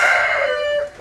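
A KALRO improved Kienyeji chicken rooster crows once, loud and close, a single bright call that trails off at the end.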